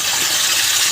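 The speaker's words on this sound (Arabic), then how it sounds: "نغسل الرز" Rice being washed under running water while preparing Egyptian koshari, a steady close rush of flowing water.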